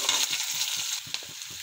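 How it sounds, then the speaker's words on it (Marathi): Peanuts roasting in a pan in a home kitchen, with a steady close sizzle and short repeated scraping stirs, roughly one every quarter second. "छान फ्राय होतपर्यंत भाजून घेऊ याला, दाण्यांना."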